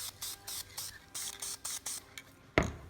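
Black spray paint is sprayed onto brass fixtures in short, quiet hissing bursts, about eight in quick succession, ending with a sharp click.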